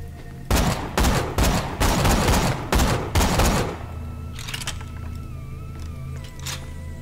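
Rapid bursts of gunfire from a newly picked-up, high-fire-rate gun in Borderlands: The Pre-Sequel, several loud volleys in quick succession, then game ambience with faint electronic tones.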